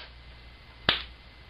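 A single sharp finger snap rings out once against a quiet, low background hum, crisp and close.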